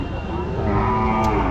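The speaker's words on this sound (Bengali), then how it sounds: "কি জাতের বাছুর? সিন্ধি সাইওয়াল না?" A Sindhi Sahiwal calf lows steadily at a busy cattle market, a single drawn-out moo held for the whole moment over the low murmur of the crowd.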